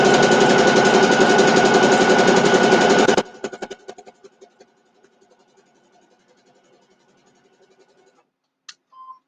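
A home sewing machine stitches a quilt-as-you-go mug rug in a loud, steady mechanical whir for about three seconds, then stops, leaving faint clicks and a quiet rattle.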